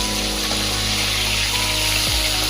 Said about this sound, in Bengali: এবার প্রত্যেকটা মাছ এভাবেই ভেজে নেব।